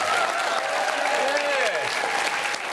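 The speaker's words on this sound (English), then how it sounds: "Give them a round of applause, ladies and gentlemen." A studio audience on a cooking show breaks into steady, dense applause, a close, sustained wash of clapping that carries through under a bit of background chatter.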